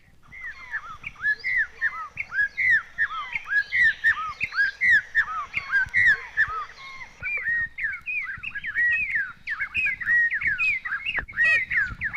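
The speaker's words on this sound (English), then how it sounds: "we hear the distinctive songs of the yellow-tailed oriole" Repeated sharp, whistled song phrases and chirps of a yellow-tailed oriole in Mexico, loud and close, delivered in quick bursts over about twelve seconds with a faint low background rumble.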